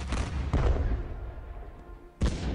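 Naval guns firing in a First World War strategy game, with three sharp, booming shots from a cruiser spaced over a couple of seconds and a rumbling tail after each blast; no voices.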